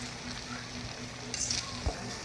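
Pechay leaves being stirred as they fry in a pan for pancit habhab (pancit Lucban): a low, steady sizzle with a brief scrape and a soft utensil knock near the end, quiet and close.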